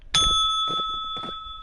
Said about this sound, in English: I have a physical bell right here next to me that I ring to emphasize ring the bell.